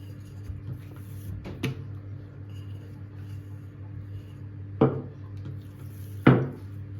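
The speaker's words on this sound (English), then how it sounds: "we slam them onto the baking tray, ready for the oven to handle their fiery energy" Flattened sweet bread dough balls slammed onto a baking tray, three separate sharp thuds spaced a few seconds apart over a low, steady hum.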